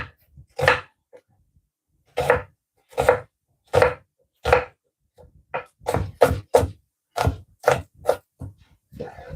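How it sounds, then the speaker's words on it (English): A knife chops onions on a board in loud, crisp strokes. A few spaced cuts come first, then a quicker run of closely bunched chops, with near silence between them. "onions is being cut"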